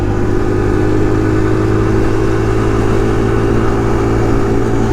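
Kawasaki KLX 140 small-bore pit bike engine running, a loud, close, steady mid-pitched thrum at constant revs throughout, without speech.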